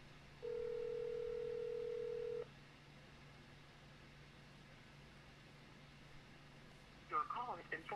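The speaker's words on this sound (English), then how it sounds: "Hold on, I'm calling my mom." A phone call placed from a livestream setup gives one long steady ringback tone lasting about two seconds, faint and thin under background hum, followed later by a brief burst of speech.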